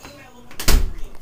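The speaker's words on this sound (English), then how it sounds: "Shut the door on me!" A door is shut once, a sharp broadband thud landing mid-clip against quiet room tone, with a voice in the background.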